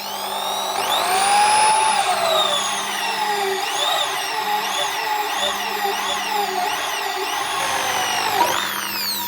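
A Dongcheng DJZ10-10 electric drill bores into iron at moderate speed, its steady whine rising and falling in pitch under load for several seconds before winding down near the end, loud and close, with no talking.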